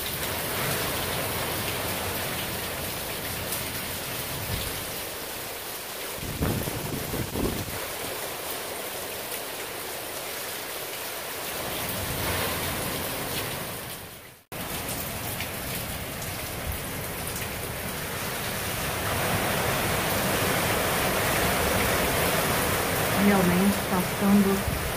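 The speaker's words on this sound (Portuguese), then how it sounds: "Não para de ventar, tá bem forte mesmo." Hurricane Irma's strong, steady wind roars across the whole stretch, a dense rushing noise with gusts, briefly dropping out midway before surging back even louder.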